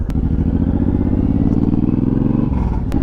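A Suzuki M109R motorcycle engine idles loud and close, a steady deep pulsing rumble with a light clatter throughout, a brief dip near the end and no talk.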